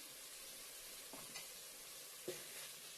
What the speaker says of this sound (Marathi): आता आपण हा ओला मसाला घालूया त्याच्यामध्ये